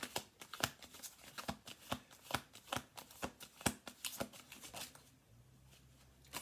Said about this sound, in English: Four cards on the table.